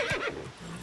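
Roach the horse in The Witcher 3 gives a short, close neigh with a rising whinny at the start, fading into a low breathy snort.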